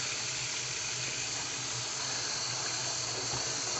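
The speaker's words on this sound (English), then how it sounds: "we're going to let that get some water in it." Hot water runs steadily from a tap into a stoppered sink, a loud, continuous close hiss and splash with no breaks and no talk, as the sink fills for wet forming a leather holster.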